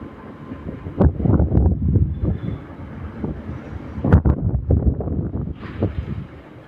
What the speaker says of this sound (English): So there goes 801 203 with an LNR service from London King's Cross to Edinburgh.